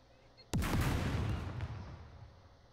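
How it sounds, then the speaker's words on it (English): A large explosion in the SCUM survival video game, set in a big town. It is a sudden loud blast followed by a long rumbling decay lasting about two seconds, with no talk over it. "Yeah, that was a bit of explosion."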